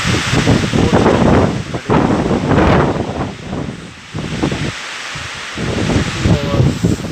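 Strong gusting wind ahead of Cyclone Amphan's landfall near Kolkata, loud roaring blasts that buffet the microphone, surge and briefly ease, then build again.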